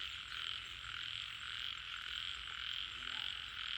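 A continuous chorus of frogs trilling and croaking in rice fields fills the background, steady and droning, with no voices present.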